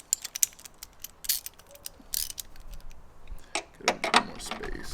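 Ratchet backing a nut out on a 2023 Ford Bronco Badlands roof rack: sharp clicking pawl strokes in irregular short bursts, close and crisp, with small pauses between turns.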